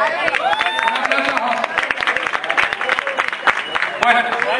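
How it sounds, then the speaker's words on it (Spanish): Audience applause at a live rock concert of a cover band, a dense wash of clapping with some cheering, steady and fairly loud throughout. "Un aplauso a José, por favor."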